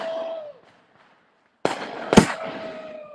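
A firework mortar shell launches with a sharp thump and then bursts in a loud, close crack a moment later, with a brief voice before and after the blasts.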